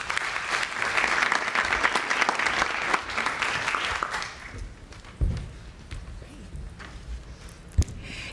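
An audience at a youth summit competition claps in a dense round of applause that fades after about four seconds, leaving room noise, a few scattered claps and a sharp knock near the end.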